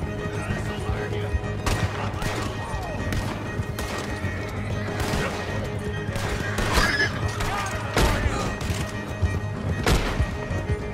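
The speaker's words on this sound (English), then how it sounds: "That was some good shooting" Gunfire in Red Dead Redemption 2, a Western open-world game, scattered shots over a busy backdrop of horse hooves, whinnies and ambient noise, with a voice speaking at times.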